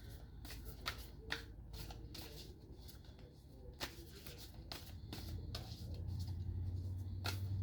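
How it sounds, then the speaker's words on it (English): A deck of Akashic Tarot cards being shuffled by hand, soft rapid riffling and flicking close by, quiet with no talking. "I'm going to pull 3 Akashic Tarot cards in the last bit of this here."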